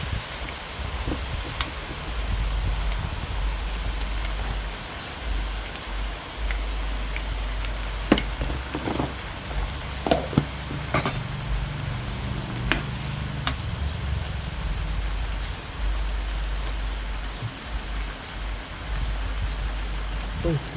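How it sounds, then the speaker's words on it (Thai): Steady rain falls outside during home cooking, where pork is being stir-fried with spicy basil-like leaves; a constant soft wash of rainfall with scattered drips and light clicks runs throughout, with occasional brief kitchen sounds. "วันนี้ฝนกำลังตกค่ะ"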